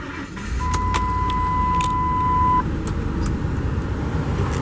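A 2004 Lincoln Navigator Ultimate 4WD SUV engine turns over and settles into a steady, close idle rumble while a continuous electronic chime tone sounds for a couple of seconds.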